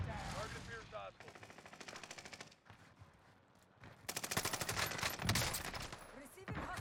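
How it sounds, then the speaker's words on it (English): Rapid machine gun fire in Call of Duty Warzone on Rebirth Island comes in dense, fast bursts with short pauses between, loud and close, with a voice speaking briefly in between. "Receiving hostile fire."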